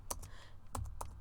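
Several quick keystrokes tapped on a computer keyboard while entering a command, clicking in two small clusters, close and fairly quiet with no talking.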